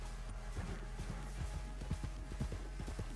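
In a video game, a horse's hooves clop in an even, repeating gait, clear and fairly close over a low ambient hum, with no speech.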